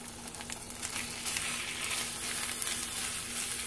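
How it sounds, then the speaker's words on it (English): Meatloaf slices fry in a hot pan for a patty melt sandwich, giving a steady, moderately quiet sizzle and crackle with faint irregular pops and no speech. "So now I'm just going to place my meatloaf slices right into the pan."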